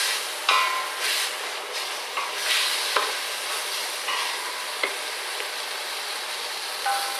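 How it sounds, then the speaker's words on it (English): Onions hit melted butter for a bacon and tomato risotto, giving a steady soft sizzle broken by repeated sharp clicks and scrapes of stirring in the pan, close and quiet. "Once the butter's melted, we're going to chuck in the onions."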